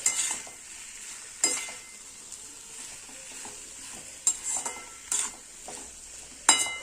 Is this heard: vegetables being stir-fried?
yes